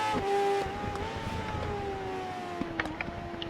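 A BMW S1000 RR sport motorcycle engine holds a high, tonal whine that shifts pitch as it pulls and shifts through the gears, close and fairly steady, with a few sharp clicks near the end.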